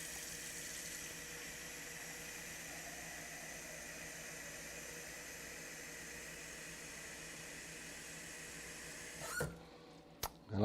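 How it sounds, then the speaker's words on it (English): Water runs from a tap into a saucepan in a home kitchen, a steady close hiss of filling that carries on alone without talk before cutting off near the end with a couple of clunks. "take the saucepan and put enough water in there"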